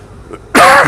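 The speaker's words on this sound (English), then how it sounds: "sorry about the coughing" After a brief quiet moment, a single loud, close cough bursts out harshly from a person recovering from a flu jab.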